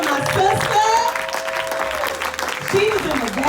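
Audience applause and cheering fill a room, steady and dense throughout, with voices and whoops rising over the clapping.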